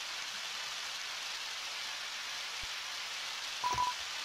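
Rain falling in the video game Undertale, a faint, constant hiss throughout, with a brief tonal beep and a couple of small clicks near the end.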